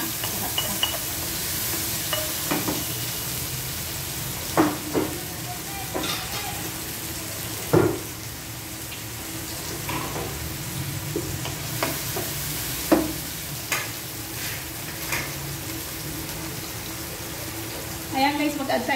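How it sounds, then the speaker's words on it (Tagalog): Onion, garlic and tomato sautéing in oil in a pan, a steady low sizzle with intermittent stirring clinks and scrapes throughout, fairly quiet and without talk. "Igisa natin guys sa sibuyas, bawang, kamatis."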